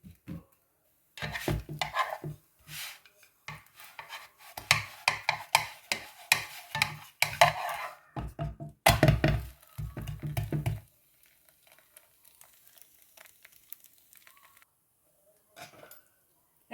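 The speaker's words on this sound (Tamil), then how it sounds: "முதல்ல எண்ணெய் பூசிட்டு தட்டினான். இப்போ மாவை தூவிட்டு தட்டலாம்." Hands pat flour-dusted spinach roti dough flat in a burst of soft, irregular slaps and dull thumps close by, stopping after about ten seconds into near silence with a couple of faint taps.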